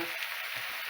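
Onion and purslane frying in a pan, a soft continuous sizzle with faint hissing crackles, quiet and brief with no talk.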